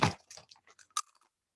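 Crispy meat crisps made from only meat and salt, bitten and chewed close to the mic, giving one sharp crunch followed by several quieter crunching chews that fade out.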